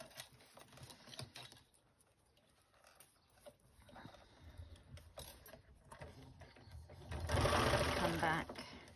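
A sewing machine stitches a repair on a ripped jumpsuit in short mechanical bursts of needle clatter between pauses, ending in a longer, louder run of rapid stitching up close.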